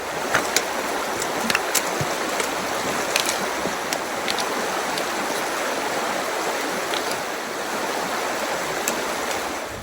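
A creek flows steadily along the Ozark Trail, a continuous close rushing hiss of water with scattered small splashes and gurgles, no voices.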